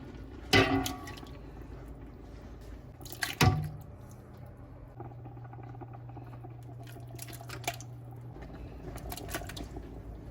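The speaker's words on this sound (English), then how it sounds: "I'm just going to keep going till I have all the tomatoes added." Crushed tomatoes plop and squish into a pot of softening tomatoes for home canning, with a couple of distinct wet drops and splashes at the start and a few quieter liquid patters and clicks over a low steady hum.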